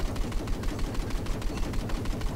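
A naval gun on a boat in Battlefield 4 multiplayer fires continuously, a fast, regular stream of loud, close reports that never pauses.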